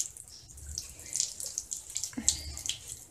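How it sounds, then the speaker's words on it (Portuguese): A tap runs gently at a low flow into a sink while makeup brushes are rinsed, a soft, close trickle with faint splashes and drips that rises a little midway, with no talk. "E a água bem devagarzinho, tá vendo? Não precisa de abrir água grande, não."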